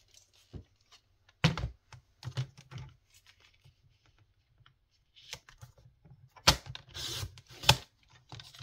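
Scissors snip and trim paper ephemera for a junk journal card, giving a few sharp cuts and short bursts of rustling paper at close range, with quiet gaps between and no talk.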